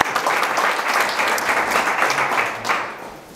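An audience at the Amiens Cluster New Year's event applauds the office members, a full, steady wash of many hands clapping together that tapers slightly at the end.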